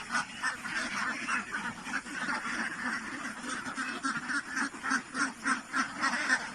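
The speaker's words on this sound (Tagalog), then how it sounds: "Nakalabas na itik." A flock of Pateros ducks (itik) quacks continuously nearby, overlapping calls forming a busy, rhythmic chatter that grows more pulsing toward the end.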